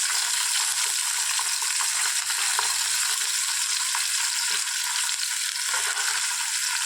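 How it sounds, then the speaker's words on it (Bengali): Sand goby fish (bele) frying in oil in a pan, a steady close sizzle that crackles and spits throughout, with no voices over it. "কিছুটা তুলে মাছ ভাজা হয়েছে, এবার বাকিটা আবার ভেজে নিই"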